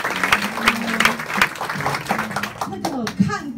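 An audience at a Taoyuan centre gathering applauds for its leaders, with scattered clapping under a voice speaking over it.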